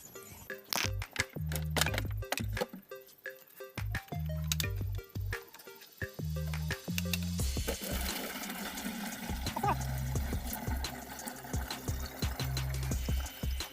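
Water is poured into a 5-litre plastic bottle used for a homemade bike-washing gun. Intermittent clicks and tonal bursts come first, then a steady rushing pour fills the second half.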